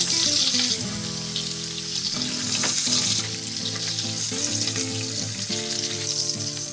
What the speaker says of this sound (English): You see, just brown it a little bit on the side.